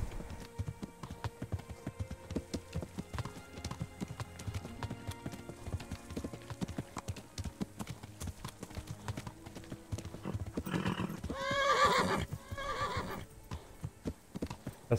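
Horse hooves clip-clop steadily under a busy soundtrack in the game Kingdom Come: Deliverance, then a loud horse whinny rises near the end.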